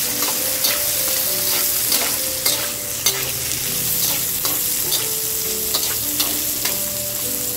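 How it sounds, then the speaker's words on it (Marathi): Chopped green chillies, five or six of them, stirred and sizzling in a pan for veg hara bhara kabab, with steady frying crackle and repeated spatula scrapes and knocks throughout, no voices. "हे सगळं छान परतून घ्यायचं असं।"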